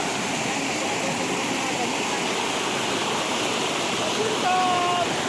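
Steady broadband rush of a waterfall at Yahoo Falls on a Sai Kung stream, continuous and close, with faint voices and a brief tone near the end.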